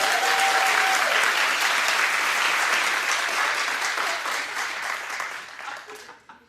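A studio audience claps loudly and continuously at a daytime talk show, dense applause that holds steady, then thins and fades out near the end.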